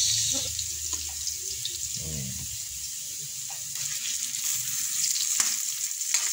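Ginger and onion fry in a pan, a close sizzle with splashing, water-like bursts and scattered stirring clatter, loud throughout; no one speaks.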